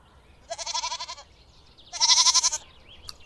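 A goat bleats twice, each call a loud, wavering, near cry of under a second, separated by a short quiet pause.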